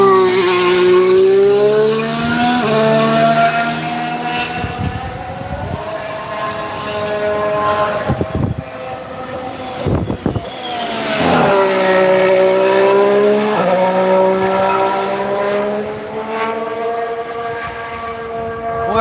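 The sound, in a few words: McLaren Formula 1 car passing at Barcelona test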